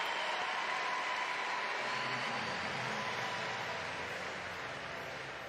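Crowd at a Youth Olympics diving event applauding after a dive, a sustained, fairly distant wash of clapping that holds steady and slowly eases, with no voices on top.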